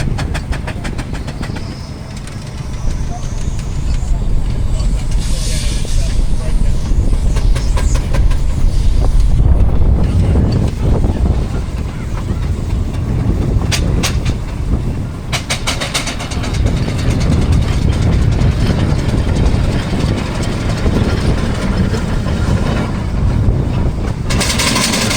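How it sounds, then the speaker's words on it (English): Two steam-powered steamrollers running at outdoor steam engine games at Parham Park, a loud sustained rumbling chuff with rhythmic mechanical clanking that swells and continues for the whole stretch. "So we're going to do the two steamrollers next."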